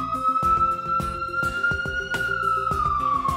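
An SCDF ambulance siren in its wail tone holds a long, steady high pitch that slowly sags near the end, sounding loud and alone over a rhythmic thumping beat.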